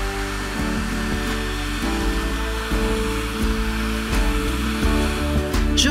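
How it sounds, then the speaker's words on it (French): A steady jet of air blown across wet alcohol ink and thinner, a continuous close hiss with no talk over it. "un jet d'air que je passe jusqu'à ce que l'encre ne s'étale plus"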